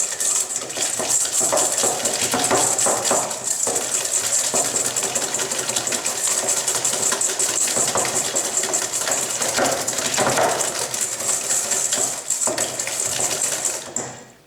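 Egg yolks and sugar whisked together in a bowl for pastry cream, a busy continuous scraping and clattering of the whisk, close and steady for about fourteen seconds before stopping.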